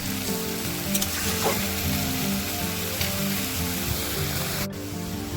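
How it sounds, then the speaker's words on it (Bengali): Potato and Malabar spinach stalks fry in a pan with a continuous, close sizzle, broken by occasional stirring scrapes and clinks of a utensil, with no voices. "আলু ডাঁটাটা ভালো করে নাড়তে হবে তাহলে পুঁই ডাঁটার হড়হড়ে ভাবটা থাকবে না"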